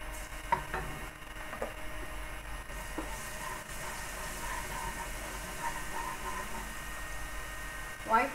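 Garlic sizzles in hot oil in a pan as the base for spicy egg hakka noodles, a steady frying hiss with occasional stirring knocks and clinks, close and moderately loud throughout.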